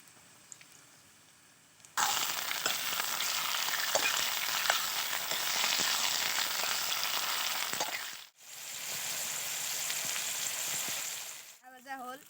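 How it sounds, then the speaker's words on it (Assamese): Chicken meat frying with ginger and no spices in hot oil, a loud dense sizzle that bursts in suddenly, dips briefly, then resumes, close up with faint stirring and no talk. "মাংসখিনি মছলা নিদিয়াকৈ আদা ভাজি ল'ম।"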